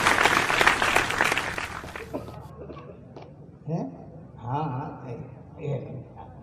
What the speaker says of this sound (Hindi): आप जोरदार तालियां बजा करके अभिवादन